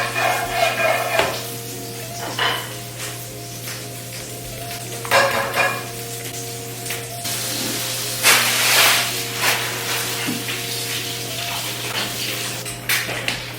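Eggs fry in a pan with a continuous close hiss and sizzle, joined by scattered scrapes and clinks of stirring, over a low steady kitchen hum and no speech.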